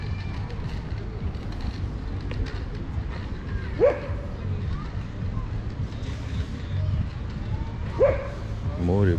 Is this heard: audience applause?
no